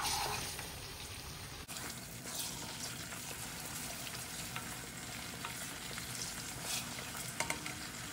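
Steady, crackling sizzle of a whole chicken breast frying in a pan, continuous and fairly close, with occasional stirring scrapes and no voices.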